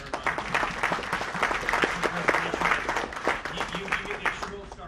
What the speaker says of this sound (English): Round of applause again for Shannon.